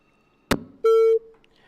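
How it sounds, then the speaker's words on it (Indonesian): A radio call-in telephone line dropping: a sharp click, then a single short steady tone lasting about a third of a second, fading into quiet. "kami mohon maaf sambungan telepon kami dengan Bapak Burhan Kadir terputus"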